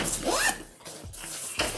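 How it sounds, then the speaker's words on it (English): A YKK zipper on a Rider bag is pulled in a quick rising zip, followed by softer rubbing and handling sounds of the fabric and zipper pull, close and fairly quiet. "these are indeed YKK zippers."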